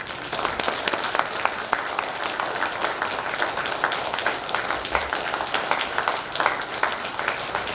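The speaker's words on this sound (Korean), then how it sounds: "우리 목사님 나오실 때 큰 박수로 맞이하도록 하겠습니다" Sustained applause from a church congregation welcoming their pastor, a dense, even wash of many hands clapping together, steady and loud across the whole span with no voices on top.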